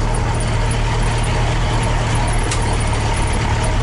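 A truck grinds along a narrow rural dirt road, its engine a steady, loud low rumble throughout with no pauses, close by.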